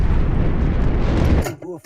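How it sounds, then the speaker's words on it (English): A heavy, roaring explosion as a World War II U-boat's torpedo hits a large dry cargo ship, rumbling loudly for over a second, then cutting off abruptly, followed briefly by a voice. "Launching a torpedo at a large dry cargo ship. A hit."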